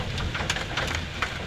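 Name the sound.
hailstorm pounding down in Lahore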